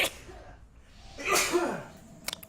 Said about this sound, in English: Oh, sneeze there.